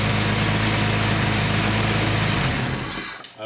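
A Datsun 280ZX turbo engine runs at a steady, loud idle with a raspy, buzzing drone close by, then cuts out abruptly near the end.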